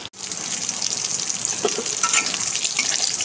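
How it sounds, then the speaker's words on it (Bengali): Sliced pointed gourd frying in hot oil over medium heat, a steady, close, bright sizzle filling the whole few seconds with no voices. "গ্যাসটা সামান্য মিডিয়ামে রেখে এইটুকুনি ভেজে নেবো।"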